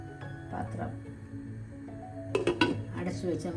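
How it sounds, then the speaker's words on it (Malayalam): A metal lid is set onto a cooking pot of Onam Sadhya kootu curry, giving a few sharp metallic clinks and clatters near the end over steady kitchen background noise. "അടച്ചു വെച്ച് നമുക്ക് വേവിക്കാം."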